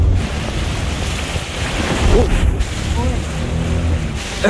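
Water rushes and splashes steadily around a car as it drives through a flooded stream, a dense continuous wash with some low engine rumble beneath, and voices speak briefly over it.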